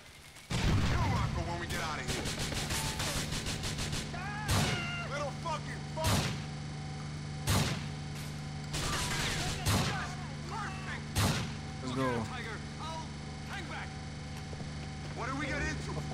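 Grenade blasts and gunfire ring out in Grand Theft Auto: Episodes from Liberty City, sharp booming hits recurring every second or two over a steady game hum, with voices chattering between them.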